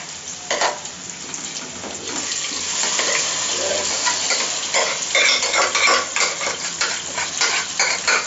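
Cooked dal is tipped into a lightly charred tempering in a pot, setting off a loud, continuous sizzle and bubbling splash, with the scrape and clatter of a spoon stirring through it.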